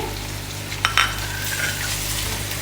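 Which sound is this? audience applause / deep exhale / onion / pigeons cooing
onion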